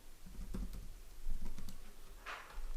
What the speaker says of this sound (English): Let's type sales record.